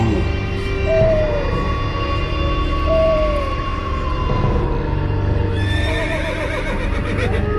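A horse neighs twice, high and wavering, over a dense eerie ambient background with low rumbling tones.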